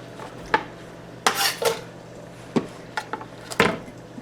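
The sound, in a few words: putting raw ingredients into a pan for fried rice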